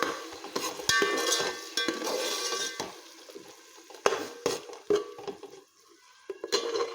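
Ginger, garlic and shallot paste sautéed slowly on a low flame for a vegetable biryani, with a soft continuous sizzle broken by spoon scrapes and clinks against the pan.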